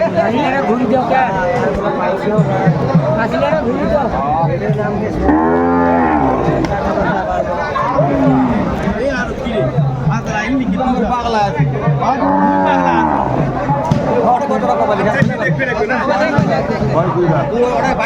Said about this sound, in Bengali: দুই দাঁত গাভী